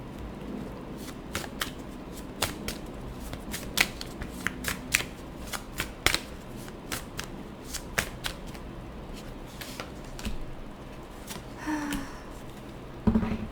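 Tarot cards are shuffled close up in sharp, crisp riffling bursts with flicks and snaps, irregularly spaced across the stretch, and a brief quiet pause near the end before one more shuffle. No one speaks.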